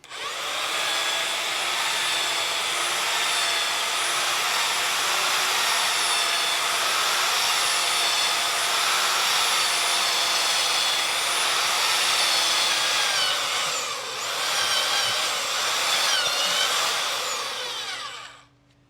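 A cheap electric earth auger bores into dirt, a loud steady motor whine with grinding that dips briefly as it bogs down near the end before stopping.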